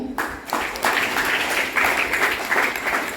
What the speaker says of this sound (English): Let's give a round of applause to ourselves for that.